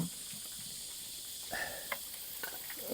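Food simmering on a Cooka Firebox stove at an outdoor Australia Day cookout, a steady soft hiss with faint crackles and a few brief pops, close and quiet with no talk.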